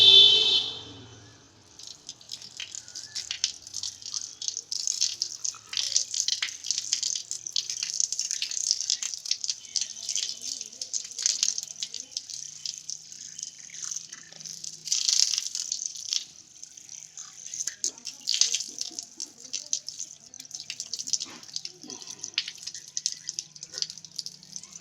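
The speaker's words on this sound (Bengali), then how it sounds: "আমরা মসজিদের নলে মুখ ধুতে আসলাম" Water runs from a mosque tap while someone washes their face, a steady, close hiss of flowing water with splashes and drips, fairly faint throughout.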